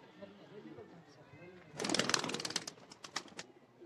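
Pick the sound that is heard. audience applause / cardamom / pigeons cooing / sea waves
pigeons cooing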